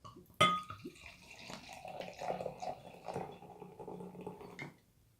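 Two Ballast Point Victory at Sea beers, the regular and the peanut butter version, poured into glasses, with liquid splashing and gurgling in a steady stream after a sharp clink at the start, up close and fairly quiet.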